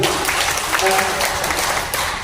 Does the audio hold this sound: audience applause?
yes